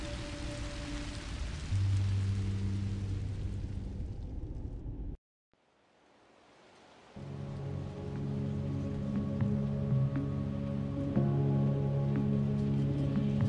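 Steady rain pours in the Minecraft Story Mode video game, a dense hiss that cuts out abruptly for about two seconds before returning with low rumbling tones layered in, heard without talk.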